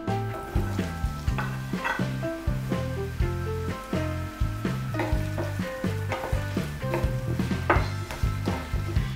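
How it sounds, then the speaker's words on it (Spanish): Garlic and chopped spring onion sauté in hot oil in a frying pan, a close, steady sizzle broken by the repeated scrape and knock of stirring, with no talking. "en una sartén con un poco de aceite caliente sofreímos el ajo y cuando veamos que empieza a estar doradito le añadimos la cebolleta picada"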